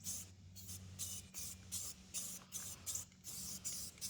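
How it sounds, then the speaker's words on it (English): A rattle can of satin paint sprays in short, evenly spaced hissing bursts, about eight quick puffs with brief pauses between them, close and fairly soft. "So when you paint with a rattle can"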